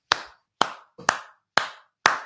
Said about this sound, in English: let me finish this before I start applauding